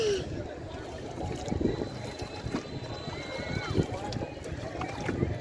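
A boat moves across water with a low steady rumble and soft wind noise, fairly quiet overall, with faint voices in the background.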